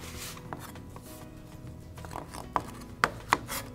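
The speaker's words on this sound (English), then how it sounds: "we're going to finish chopping our okra" A knife chops okra on a cutting board in a home kitchen, with soft irregular cuts and a few sharper, louder knocks near the end, close and quiet with no talk.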